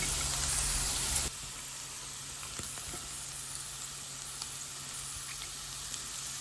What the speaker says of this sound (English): So we're going to add in the carrots and fry that some more.